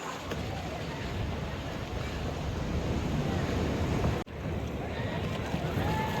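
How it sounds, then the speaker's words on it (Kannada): Surf on the shore at Ullal, Mangalore, keeps up a steady, moderately loud wash of breaking water with wind noise over it and a short dip partway through. "ಇದು ಬರ್ತಿದೆ ನೋಡಿ ಗೈಸ್ ಅಲೆ."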